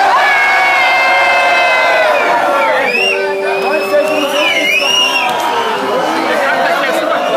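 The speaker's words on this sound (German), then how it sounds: "Schreit mal und seid mal so laut ihr könnt." A festival concert crowd screams and cheers loudly and continuously, with shrill whoops and voices rising over the roar.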